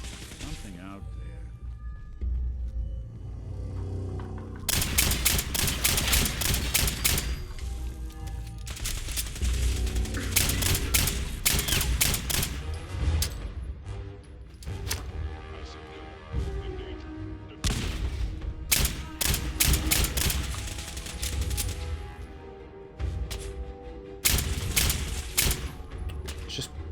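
Turret gunfire in Fallout 4, rapid bursts of heavy automatic shots rattling loudly in long volleys with brief gaps, mixed with game effects and booming impacts throughout.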